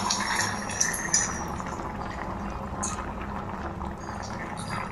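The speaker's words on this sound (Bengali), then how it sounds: "এবার দিয়ে দিচ্ছি 2 কাপ গরম জল।" Two cups of hot water pour into a pot of Bengali niramish vegetable curry, making a steady rushing, bubbling wash of liquid for several seconds, close and continuous, with a couple of faint clinks.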